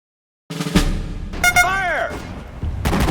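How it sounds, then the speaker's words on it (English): Gunfire and artillery in the World War II strategy game Sudden Strike 4: sharp blasts open and close the moment, with a shouted voice between them. "Firing! Fire at the target!"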